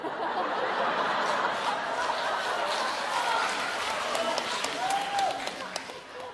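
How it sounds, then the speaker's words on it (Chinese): A theatre audience at a Deyun Society crosstalk show bursts into applause mixed with chuckles and laughter, a dense wash of clapping and crowd noise with voices mixed in. "但大家鼓掌了"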